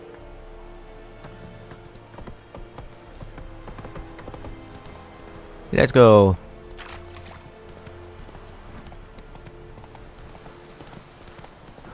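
In The Witcher 3: Wild Hunt, a horse clip-clops at an easy walk through steady game ambience. A loud whinny breaks in midway, and a voice speaks briefly.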